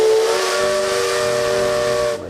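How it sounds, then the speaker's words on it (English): An old steam train's whistle blows loud and sustained for about two seconds with a hissing edge, then cuts off abruptly, heard alone at the Boothbay Railway Village museum. "the old steam train is still the star attraction"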